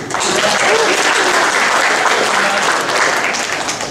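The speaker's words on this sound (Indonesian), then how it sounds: "Tepuk tangan untuk buku." Sustained audience applause at a literature and tolerance event, a dense, even wash of many hands clapping close by for the full stretch.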